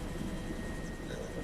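Army helicopter in flight over Trenton on a partly cloudy day, heard from inside as a steady broadband rotor and engine roar that fills the whole stretch with no voices.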